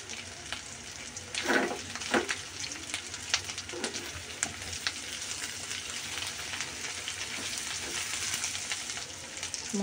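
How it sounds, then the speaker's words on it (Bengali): Turmeric, cumin, coriander, chili and roasted cumin powders sizzle in hot oil for a bitter gourd curry, a continuous close frying crackle with occasional sharp spatters and stirring scrapes, no talk. "ভাজা তেলে রাখা জিরার গুঁড়ি"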